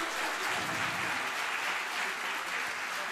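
A crowd claps continuously, a dense, even wash of applause that holds steady throughout.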